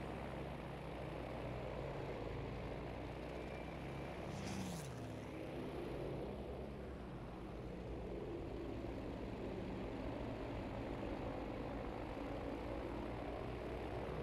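Propeller airplane engine in the video game Battlefield 5, a steady loud droning hum that holds throughout with a brief whooshing pass midway.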